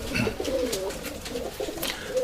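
Urfa Arab pigeons coo in low, burbling phrases that repeat steadily at close range, heard on their own without any voices.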